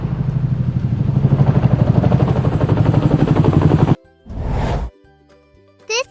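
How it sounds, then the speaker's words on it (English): A military transport aircraft, the kind that carries soldiers, tanks and supplies, roars with a steady, loud, throbbing engine drone for about four seconds, then cuts off abruptly into a brief whoosh and quieter tonal sounds. "This is a military transport aircraft."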